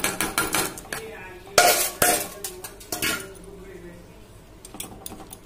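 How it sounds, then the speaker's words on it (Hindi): Rice goes into boiled milk for kheer and a spoon stirs the pot, giving quick metal clinks and scrapes at first, then a few louder knocks and softer stirring as a voice talks over it. "देखिए दोस्तों हमारा दूध उबल गया है, अब हम इसमें"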